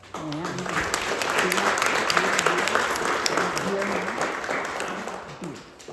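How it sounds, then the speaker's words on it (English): A gathered crowd applauds at an outdoor monument dedication, steady sustained clapping from a modest group with voices talking and cheering over it, fading slightly at the end. "please show your appreciation to all of these folks with a heartfelt round of applause"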